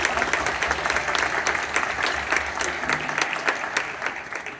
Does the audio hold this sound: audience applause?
yes